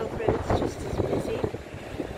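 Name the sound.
wind blowing on a blustery walk in Liverpool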